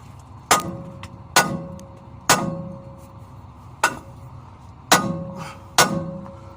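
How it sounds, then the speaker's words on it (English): Six sharp metallic hammer strikes on the prop shaft of a Scania eight-wheeler tipper truck, spaced about a second apart, each with a short ringing decay over low mechanical rumble. "A couple of taps with a hammer should sort that out."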